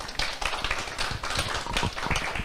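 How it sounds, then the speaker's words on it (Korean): Dense, sustained clapping from a crowd fills the room, a steady patter of many hands with no voices on top. "한 번 더 박수 부탁드립니다"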